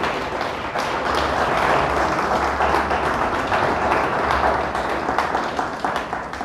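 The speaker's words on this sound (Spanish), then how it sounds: "Le damos un fuerte aplauso a Dios por eso." A church congregation applauds during a Spanish-language sermon, producing dense, sustained clapping from many hands that swells and continues for several seconds, fairly loud in the room, with no clear speech over it.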